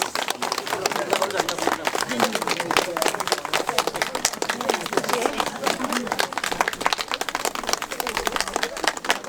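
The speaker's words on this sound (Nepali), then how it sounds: "कृपया ताली बजाउन कन्जुसाइ नगरिदिनु होला" An audience at a Nepali trekking campaign gathering claps for the performing artists: dense, continuous applause throughout, with voices talking over it.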